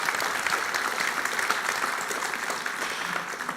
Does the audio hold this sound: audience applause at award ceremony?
yes